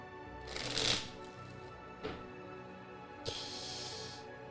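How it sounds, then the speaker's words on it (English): A deck of playing cards is shuffled close by, three separate riffles, the first long and loud, then a short burst and a final longer rustle, with no voices. "okay, one more shuffle and"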